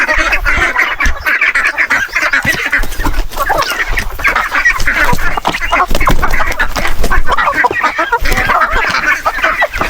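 Peking ducks on a small farm quacking loudly and continuously at close range, many overlapping calls in busy bursts, with other fowl clucking among them and no clear speech.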